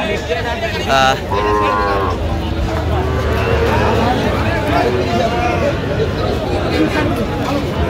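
Cattle and young calves, bulls and heifers, at a crowded livestock market in Dinajpur, with a moo or two rising over the constant hubbub of people talking nearby.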